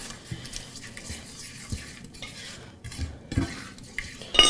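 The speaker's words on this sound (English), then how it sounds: "So we're going to go ahead and stir this up and combine this right here off the heat." Cinnamon gummy bear mixture stirred in a pot off the heat, a spoon scraping and knocking against the pot in a steady, close, moderately loud rhythm with occasional clinks.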